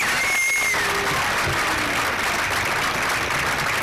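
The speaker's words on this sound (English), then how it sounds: "the one person who deserves the loudest round of applause is President of the Greater Boston Tea Party, Christine Morabito" Crowd applause at an outdoor Tea Party rally on Boston Common, a steady wash of clapping from a gathered audience lasting several seconds.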